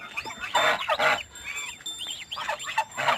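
Geese, with goslings nearby, honk repeatedly in loud, nasal bursts, several calls overlapping at close range with short gaps between, in Aranthangi, India.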